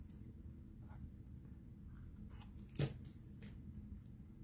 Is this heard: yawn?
no